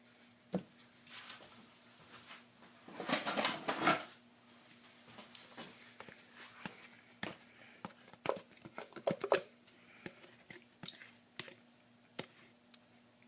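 Pumpkin puree is scraped from a container into a bowl for pumpkin pie, heard as a string of small scraping and clicking taps against the bowl, with a denser burst of scraping partway through, all close and fairly quiet.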